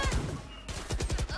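Gunfire in the shooter game Valorant, a rapid burst of several loud close shots in quick succession, followed by a brief lull and more shots.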